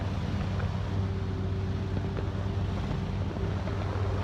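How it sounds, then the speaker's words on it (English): An electric hovercraft running at almost full thrust in a 20–25 knot crosswind makes a loud, constant droning roar with a steady hum underneath, buffeted by wind noise on the microphone. "the craft is on almost full thrust because we've got about 20-25 knot wind coming from the right hand side"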